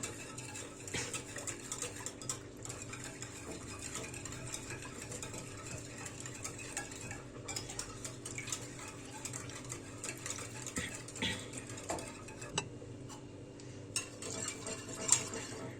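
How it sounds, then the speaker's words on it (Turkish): Sugar and yeast mixture for Trabzon pide dough is stirred in a bowl, a faint continuous swishing with soft clinks of the utensil against the sides, steady and unhurried, with no voices. "Bunları önce şöyle biraz karıştıralım."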